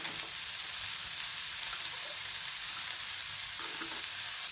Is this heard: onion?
yes